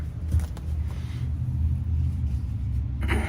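DuroMax XP12000EH dual-fuel generator converted to natural gas, test-started after an oil change at home: a steady low engine rumble holds throughout, with a brief burst at the start and a rise near the end.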